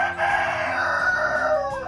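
A rooster among black chickens crowing on a farm, one long loud drawn-out call heard close and alone.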